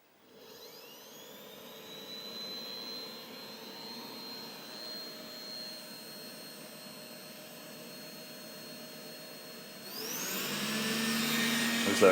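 A Dreame D9 lidar robot vacuum whirs up to a steady high-pitched motor whine, then ramps louder as carpet boost kicks in near the end.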